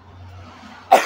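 A single sharp cough bursts out at the very end after a second of quiet room hum, loud and close.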